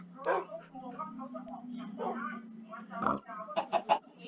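A chicken in Minecraft gives short, close clucks over a steady low background hum, ending in a quick cluster of sharp clucks, while someone talks.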